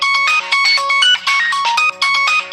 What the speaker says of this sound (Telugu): కుట్టి టీచర్ మీకు ఫోన్ వచ్చింది.